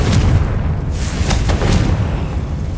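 A Confringo explosive spell from Hogwarts Legacy lands as a loud, deep boom, then a rumbling blast with a few sharp bursts crackling over the low roar.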